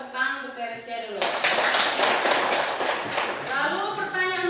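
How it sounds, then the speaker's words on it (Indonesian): A group applauds a student named Teresia in a class session, with about two seconds of dense clapping framed by a voice talking before and after. "Kita tepuk tangan untuk Teresia dulu."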